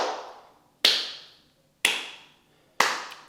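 A single person claps hands four separate times at slow, uneven intervals, each sharp, close clap followed by a short echoing decay in a quiet room.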